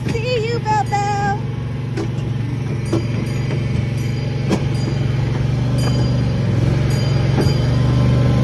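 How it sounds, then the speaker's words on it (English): A ride-on train at Bowiefest fair rolls along its track with steady rumbling and faint clacks, a continuous low hum throughout, with a voice and people talking nearby at the start. "You on the train ride."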